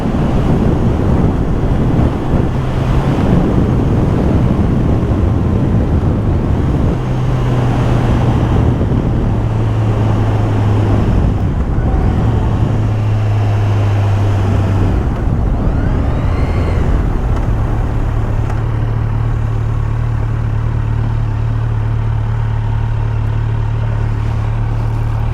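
A 2023 Kawasaki Z900 fitted with a GP shift pattern is ridden hard through its gears, its engine tone climbing and dropping in steps beneath heavy, constant wind rush against the rider's microphone.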